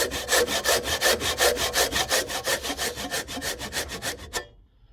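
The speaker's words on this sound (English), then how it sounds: "Then go ahead and start sawing" Steady back-and-forth strokes of a hand saw biting through wood, rhythmic and close, about two dozen passes before stopping.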